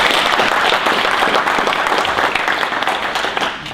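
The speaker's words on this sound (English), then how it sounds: "give him another round of applause as he comes up" Audience applause at a solo ads masterclass event in Amsterdam, a dense, steady roar of many hands clapping, loud and continuous throughout.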